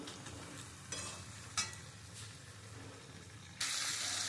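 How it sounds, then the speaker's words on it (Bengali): Bhetki fish with spices being stirred and fried in a pan: a continuous hiss of sizzling with a few brighter scraping strokes, and a louder burst of sizzle near the end. "আমি এবার মশলা দিয়ে আমি এই মাছটা খুব ভালো করে একটু কষিয়ে নেবো"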